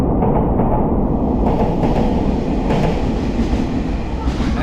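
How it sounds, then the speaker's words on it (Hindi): A local train in Taipei pulls into a station with a loud, continuous rumble and rattle of wheels and cars, while voices talk faintly beneath the roar. "ऐसी होती है लोकल ट्रेन।"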